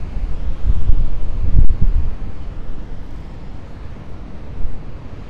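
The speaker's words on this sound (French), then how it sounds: "si le pied tombe, c'est qu'il y a trop de vent" Wind blows steadily at a seaside point, a loud low rumbling roar with microphone buffeting, gusting stronger early on and then easing to a constant rush, with no one speaking.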